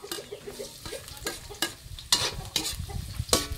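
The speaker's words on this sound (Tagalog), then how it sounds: "Brownsin naman natin. Sunod natin mga kapangit yung bawang." Garlic browns in a pan with a crackling sizzle, punctuated by sharp scraping strokes from stirring, close and moderately loud, no speech.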